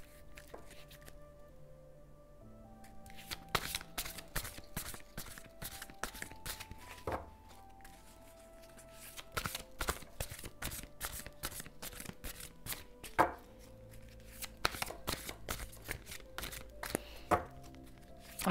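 Cards being handled during a card reading, with crisp close-up shuffles and flicks coming in irregular bursts and scattered sharp taps, quiet overall, with faint background sounds.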